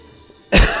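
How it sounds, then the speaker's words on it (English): A single sharp cough bursts out after a quiet stretch, loud and close, with a short rough decay. "that cough is bad."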